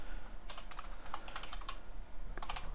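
Keys clack on a computer keyboard in quick irregular bursts of close, crisp taps, with a short pause before a final flurry.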